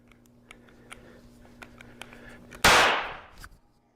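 A single sharp handgun shot cracks loudly after a few seconds of quiet clicks and handling noises, its blast decaying over about a second.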